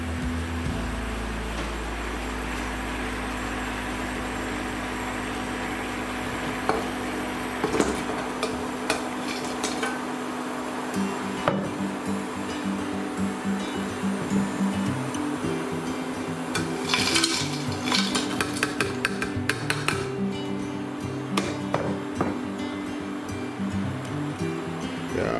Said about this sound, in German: ich tue jetzt das Buttergemüse in den Topf rein.